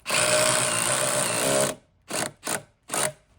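A power drill drives screws into a wooden table joint: one long, loud whirring run of almost two seconds, then three short bursts in quick succession, close by.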